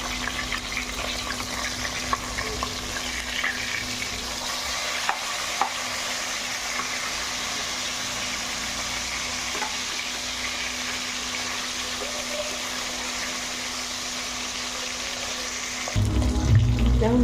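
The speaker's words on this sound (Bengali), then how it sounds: "মাছটা ভাজা হয়ে গেছে, পাল্টে নেব।" Rohu fish rubbed with turmeric and salt fries in hot oil with a constant close sizzle and occasional soft scrapes as pieces are turned, and a burst of louder clatter at the very end.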